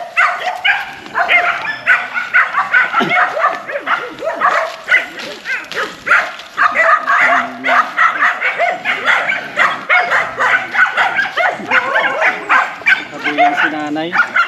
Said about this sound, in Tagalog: Mga aso. Sila yung nagkakahol na.